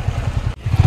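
A close scooter engine labours up a hilly road in a quick, loud, throbbing rumble with a momentary dip in the middle.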